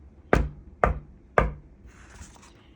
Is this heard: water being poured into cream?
no